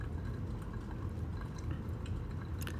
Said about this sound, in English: So here we're just adding more water, trying to get to 1 pound,